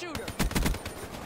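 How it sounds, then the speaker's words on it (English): Gunfire from Call of Duty: Black Ops 4 multiplayer comes as a rapid burst of several sharp shots close together, about a second long and loud. "Someone shoot me from behind."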